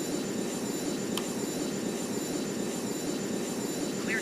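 An aircraft lands on runway 09: a continuous broadband jet-engine roar, fairly distant and steady throughout, with no voices.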